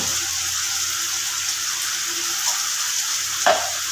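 Ground spice masala with Kashmiri red chilli powder and salt sautés in a pan, a continuous even sizzle with a faint low hum beneath and one sharper scrape of stirring near the end, no talking.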